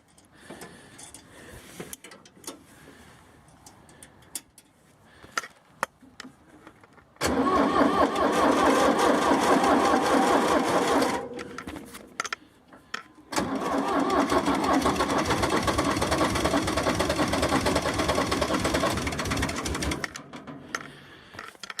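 An old long tractor engine cranks and catches, then runs in a loud, rough, steady mid-pitched roar, cutting out briefly before restarting and running again close by.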